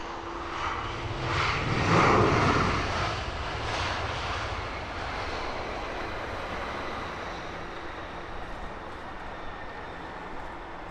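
An SAS passenger jet's engines at Heathrow Airport, a steady broadband roar that swells for a few seconds and then settles to a constant hum at middling distance, with no talking.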